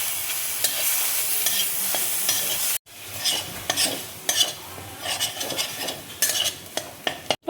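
Ginger garlic paste hits hot cumin in a kadai for a paneer dish, with a bright sizzle that drops after a cut. Stirring scrapes and spoon clinks follow in uneven bursts, and nobody talks.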